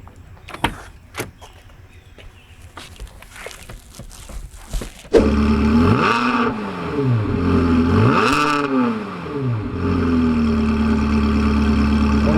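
A twin-supercharged Novitec Ferrari 360 starts up loudly after a few quieter knocks, then its engine revs in rising and falling sweeps before settling into a steady, close, sustained drone.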